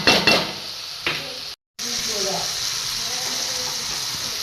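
Tomato chutney simmering and steaming in a pan, giving a steady broadband sizzle and bubbling hiss throughout, with a few stirring scrapes near the start and a brief gap partway through.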